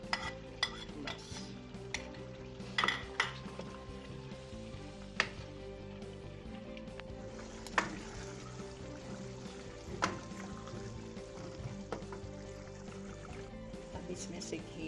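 Liver being stirred and fried with yogurt in a pot, with scraping and clinking of a utensil against metal, steady faint sizzling and occasional sharper knocks throughout.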